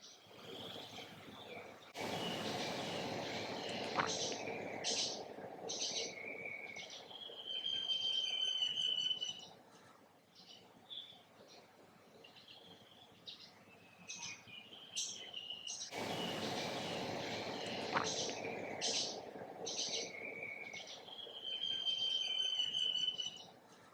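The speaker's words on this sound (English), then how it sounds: "I hope you can hear some of the birds in the background singing for me." Birds sing in a jungle with repeated high chirps and trills, faint and distant, over a steady background of insects and crickets.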